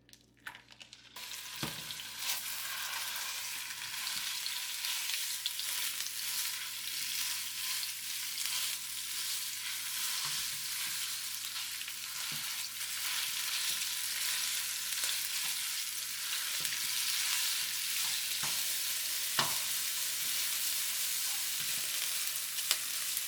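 Ground pork sizzles steadily in a couple tablespoons of hot oil in a pan, a dense, continuous frying hiss with occasional stirring scrapes and no talk.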